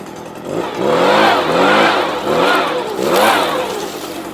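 A Stihl BR200 backpack leaf blower engine runs nearby, revving up and down in three swelling surges with a droning whine over a rough motor rumble, loud and steady without speech.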